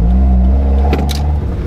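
A Mazda MX-5 (Miata) NB fitted with individual throttle bodies revs loudly and close, its engine note holding strong with a brief sharp rise partway through.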